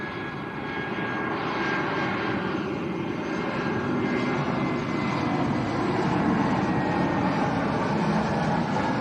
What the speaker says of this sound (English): EasyJet on short finals